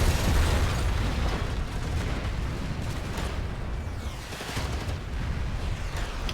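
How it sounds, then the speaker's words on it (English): Cannon blasts and machine gun fire in the video game GFL2 Exilium, a continuous, loud wash of booming explosions and rattling bursts with no pauses. "the sounds of machine gun fire and commands and cannon blast wash over the Elmo"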